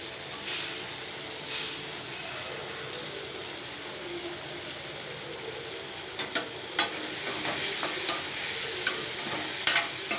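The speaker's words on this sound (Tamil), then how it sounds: "எண்ணெயிலே கொஞ்சம் வதங்கட்டும்." Onion and tomato sautéing in oil, a continuous sizzle with repeated stirring scrapes and clinks of a utensil growing busier and louder toward the end, no talking.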